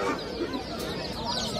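Chickens and roosters clucking together among caged fowl at a busy Friday outdoor market selling chickens, ducks, rabbits and pigeons, a dense, continuous mix of bird calls over steady crowd bustle.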